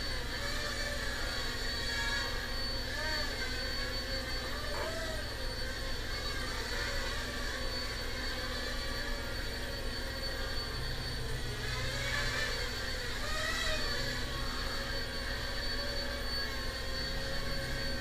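A Heli-Max 1SQ quadcopter flies indoors and spins through pirouettes, its rotors giving a steady, close buzzing whine that shifts slightly in pitch as it turns, with no voices heard.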